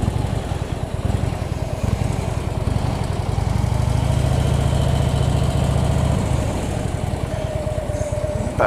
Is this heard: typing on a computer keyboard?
no